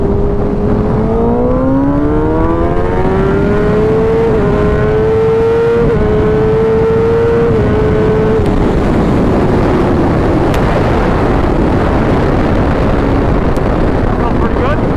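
A 2019 Kawasaki ZX10R motorcycle accelerates hard, its engine note climbing steadily through several gear shifts. Heavy wind roar takes over as speed builds. The sound is loud and close, and the engine and wind noise run through the whole pull.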